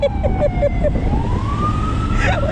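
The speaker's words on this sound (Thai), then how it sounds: "ยายจิ๋มอุตส่าห์ชะลอแต่รถดับเพลิงเลี้ยวซ้ายไปแล้วนะคะ" A wailing fire engine siren sweeps upward in pitch over traffic noise on a road down to Bang Saen beach, Chonburi, Thailand, with a few short pulsing tones before the rising wail.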